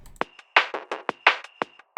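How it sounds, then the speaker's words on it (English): Chopped drum break hits punch out in a quick, uneven pattern, layered snares and kicks with crisp attacks and short gaps of silence between them. "I chopped up a drum break a little bit and did some very basic layering right here"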